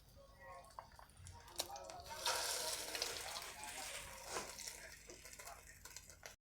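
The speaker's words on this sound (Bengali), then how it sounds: "এভাবে সবগুলি দিয়ে দিয়ে ভেজে নিচ্ছি" Snacks deep-frying in hot oil, a faint, bubbling sizzle that rises after a couple of seconds and holds, with a few light clicks and scrapes of utensils against the pan.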